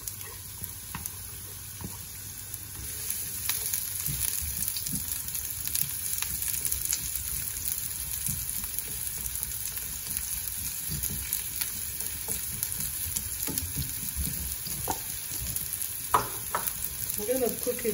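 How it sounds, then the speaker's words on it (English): Onions frying in a pan for a spicy corned beef omelette give a steady, close sizzle throughout, broken by occasional stirring scrapes and clinks. "Yes, so I'm going to add the onions."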